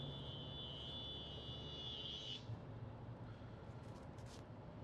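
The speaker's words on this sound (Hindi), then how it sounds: "अभी हम इसको थोड़ा सा रेव करके देखते हैं। जब हम इंजन को रेव करते हैं" A Tata Safari 1.5L turbo petrol engine revs inside the cabin, a muffled, steady low drone with a rising whine that fades, quiet overall with no talking.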